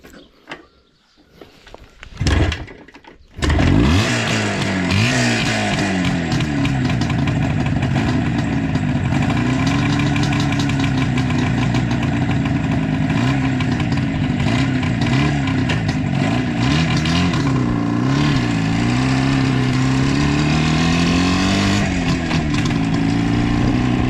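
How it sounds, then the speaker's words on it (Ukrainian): An IZh Jupiter 4 motorcycle engine, ridden again after ten years, starts and then idles loudly and steadily up close, with its pitch rising and falling as it is revved. "І на холостих даже тримається Юпітер."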